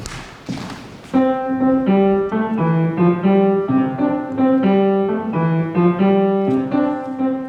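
After a couple of rough knocks, bright plucked strings play a quick, bouncing dance tune, notes stepping up and down in a steady lively rhythm.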